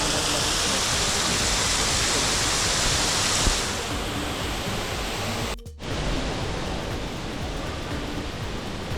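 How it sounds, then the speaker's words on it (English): Continuous rushing water from a small indoor waterfall in an airport terminal, steady and fairly loud, with a brief dip partway through. "It's a very nice small waterfall here, right after security gate."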